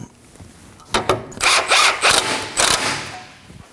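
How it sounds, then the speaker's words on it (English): Tightening a tie rod nut with a 22mm socket on an Acura MDX, a few close bursts of rattling, whirring tool noise in quick succession, loud and alone with no talk. "Now we're going to snug it up using a 22mm socket."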